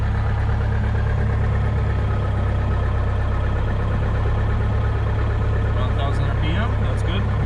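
A small airplane's engine idles at about 1000 RPM, a steady, loud, low drone that fills the whole stretch, with faint chirps near the end.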